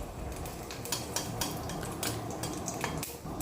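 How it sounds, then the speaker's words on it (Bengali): Panch phoron spices sizzle in hot mustard oil in a wok, making a steady crackling hiss broken by frequent sharp clinks of a metal utensil stirring against the pan. "5 ফোড়নটাকে ভেজে নিচ্ছি।"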